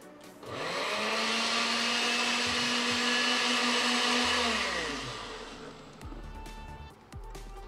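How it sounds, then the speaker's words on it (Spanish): A blender whirs loudly for about five seconds as it blends banana kefir with half a teaspoon of instant coffee, its steady motor drone winding down to quieter clinks and handling noises. "Lo voy a devolver a la licuadora y le voy a poner media cucharadita de café instantáneo."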